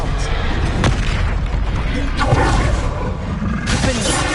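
Booming, roaring spell effects from the wizarding video game Hogwarts Legacy, with the disarming Expelliarmus charm blasting out loudly over dense, continuous combat noise and sharp impacts near the start and end.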